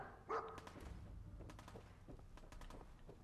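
A single sharp bark from the dog Dogmeat in the video game Fallout 4, heard once near the start, followed by quieter footsteps and faint rustling in the game's background.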